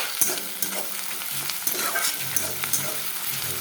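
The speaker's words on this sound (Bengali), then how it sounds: "যখন পেঁয়াজটা ভাজতে থাকো" Onions fry in a pan for a Bengali katla kalia fish curry, giving a constant crackling sizzle broken by several soft scrapes and clacks as they are stirred.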